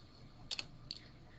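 A computer keyboard being typed on, just a few faint, quick key clicks in two short bursts in a quiet room.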